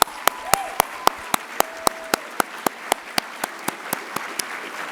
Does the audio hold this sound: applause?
yes